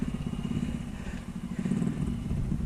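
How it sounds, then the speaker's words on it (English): Royal Enfield Himalayan motorcycle ridden during handling practice, its single-cylinder engine giving a steady, fairly loud pulsing thrum that rises and dips slightly, heard without talk. "putting the bike through its paces"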